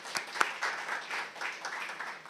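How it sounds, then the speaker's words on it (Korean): Audience applause at an academic conference session at Kookmin University, a fairly faint, diffuse patter of hands from a seated crowd that swells early and then tapers off. "박수 좀 부탁합니다."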